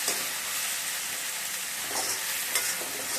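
Elephant foot yam sautéing in a pan, a steady close sizzle with soft stirring scrapes and a couple of brief louder clicks, no voices.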